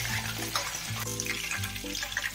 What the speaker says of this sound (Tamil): மீதி இருக்கிற சிக்கனையும் அதே மாதிரி நம்ம ஃப்ரை பண்ணிடலாம்